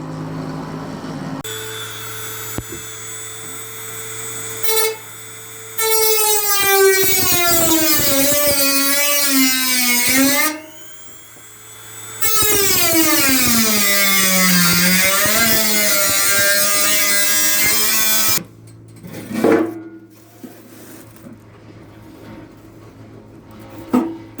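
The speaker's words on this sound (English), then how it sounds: "Now I need to go around the curved edges. And for that, I'm going to use a rotary tool." Rotary tool cutting around the curved edges of a metal jerry can: a loud high-pitched whine that rises and falls as it bites and eases, running in long bursts with brief pauses between cuts.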